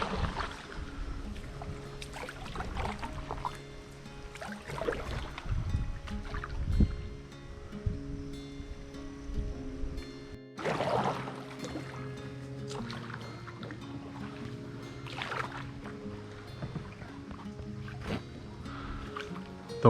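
Paddling a boat down a clear Florida spring river on a 9.5-mile trail from Rock Springs to Wekiwa Springs, with soft water sloshing and paddle strokes close by over a steady outdoor background, no talking.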